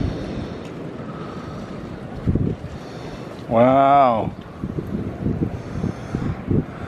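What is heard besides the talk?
wind blowing outdoors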